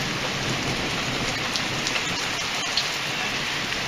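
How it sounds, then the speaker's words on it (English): Heavy rain pours steadily during a storm, with thunder rumbling beneath the hiss and a few sharper drip or crackle accents, and no one speaking. "It's really raining as well."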